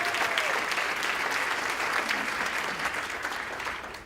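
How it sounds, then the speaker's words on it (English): Steady applause from an audience at a speech by Senator Chris Coons, a dense, even wash of many hands clapping that holds throughout and fades slightly at the end, with no talking over it. "how about a round of applause again for Farhana"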